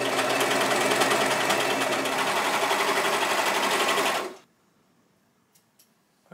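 A sewing machine hems thrifted fabric as it pulls the cloth through itself, running fast and loud with a steady whirring for about four seconds, then stopping abruptly into near silence with a couple of faint clicks.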